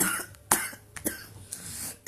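A few short, dry coughs spaced about half a second apart, close by and fairly quiet, with some throat clearing.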